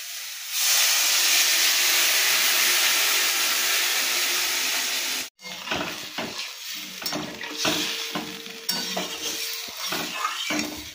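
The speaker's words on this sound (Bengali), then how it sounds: "বন্ধুরা, ঝোলটা ভালোভাবে ফুটে গেছে" Potato curry gravy boils in a pot with a loud steady hiss and bubbling at first, then a cut to busier bubbling with irregular stirring and clatter.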